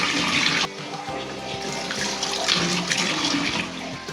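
Tap water runs steadily into a basin while a koi fish is rinsed by hand, a continuous splashing wash with a brief dip near the start, no talk over it.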